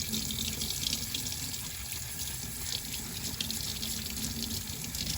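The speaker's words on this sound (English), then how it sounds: "under the sink, you're gonna open the water and just rub your plate clean." Steady rush of tap water running into a kitchen sink while a plate is rinsed by hand, a continuous close hiss with no voices.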